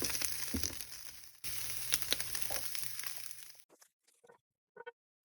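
Cubes of tofu sizzle steadily in a frying pan, a dense crackling hiss that cuts off partway through, leaving only a few faint clicks and taps.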